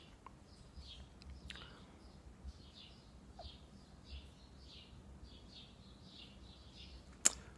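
Small birds chirp in quick, repeated high notes, faint and steady over a quiet outdoor hush, with a sharp click near the end.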